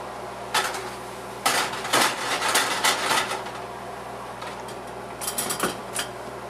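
Mushrooms are tossed into a pan with garlic, making several sharp clattering bursts of metal and food hitting the pan, spaced between quieter pauses over a low background hum.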